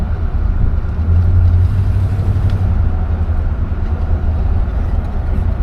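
A 1966 Oldsmobile Ninety-eight runs smoothly on the move, its engine and quiet exhaust forming a steady low hum under road rumble, heard from inside the car.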